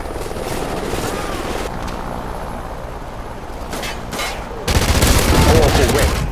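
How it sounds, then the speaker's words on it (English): Friendly helicopter flying overhead in Call of Duty: Ghosts, a continuous loud rotor roar mixed with dense gunfire and bursts of battle noise, surging louder near the end. "Friendly helicopter on the whiz"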